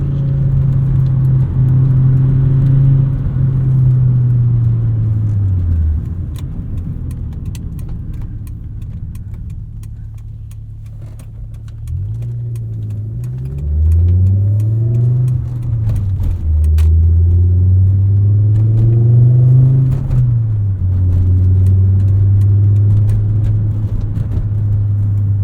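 A 1997 Volvo 850 R with a five-speed manual gearbox drives at night, its engine note loud and close, revving up and dropping back through gear changes, with a steady road rumble underneath and no voices.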